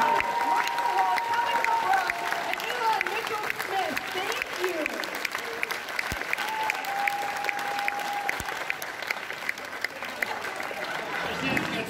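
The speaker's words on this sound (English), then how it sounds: "a big, warm, Rose City round of applause" A convention audience gives a panel of Weird Science actors a warm round of applause, steady crowd clapping throughout with some murmuring voices and cheering mixed in.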